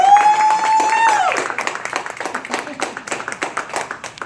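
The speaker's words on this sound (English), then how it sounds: "Give yourselves a round of applause for getting up this morning" Morning audience at a youth financial fair clapping on cue, a patchy round of applause under a loud sustained tone at first, then scattered claps thinning out.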